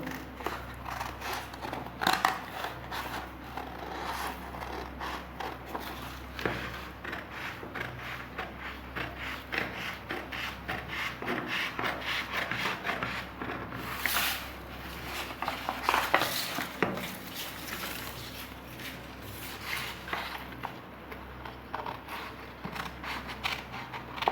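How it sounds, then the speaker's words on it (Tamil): Scissors snip through blouse fabric along a marked line while cutting a halterneck blouse pattern, a steady run of close, crisp cutting sounds lasting throughout. "நம்ம இந்த லைனில் தான் கட் பண்ண போகிறோம்"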